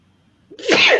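One sharp, close sneeze bursting out after a brief quiet intake, loud and breathy.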